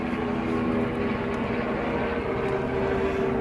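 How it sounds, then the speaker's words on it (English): A police helicopter passes overhead in an urban neighborhood, heard as a steady, continuous rotor and engine drone that holds even throughout, with no talking. "is that a police chopper?"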